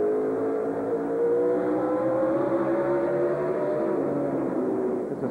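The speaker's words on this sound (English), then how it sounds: "Riding on board with Mike Skinner, that Toyota Tundra" Onboard engine roar from a Toyota Tundra race truck during a 2004 Craftsman Truck Series race at Mansfield, a loud, steady, droning note that holds throughout with slight pitch drift as the truck runs the track.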